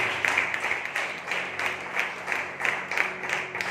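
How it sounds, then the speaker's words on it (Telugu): A church congregation at a Sunday service clapping in praise, a dense, fairly loud round of many hands in rhythmic bursts that swell and ease for several seconds. "ఒకసారి చప్పట్లు కూడా దేవుని స్తుతిద్దాం."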